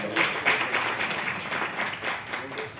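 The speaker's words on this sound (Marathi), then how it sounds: "मॅडम साठी खूप जोरदार एक वेळा टाळ्या वाजवा" Audience at a meeting applauding for madam, a burst of brisk hand clapping with uneven rhythm, fairly close and sustained for a few seconds.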